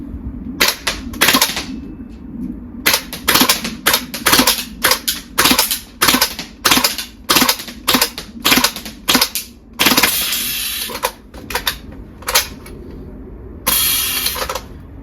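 VFC gas blowback MP5 airsoft gun firing outdoors in freezing cold, loud sharp cracks in rapid semi-auto strings and short bursts with gaps between, gas hiss trailing some shots, no talking.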